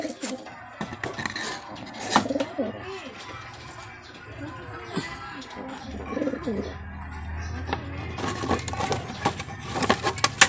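Breeder pigeons coo in a loft, with soft low cooing going on throughout a busy, noisy background and occasional sharper chirps and clatters.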